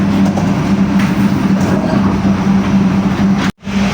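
Passenger train running steadily, heard from inside the dining car, with a continuous low rumble and hum throughout and a brief dropout near the end.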